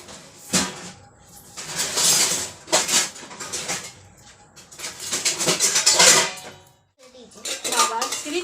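Two plates being washed by hand, with repeated clattering knocks of dishes and cutlery against each other and a sink, coming in bursts with brief pauses between them, loud and close.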